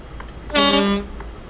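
A truck horn in the driving game Euro Truck Simulator 2 gives one steady, loud, tonal blast of about half a second, alone against quiet engine hum.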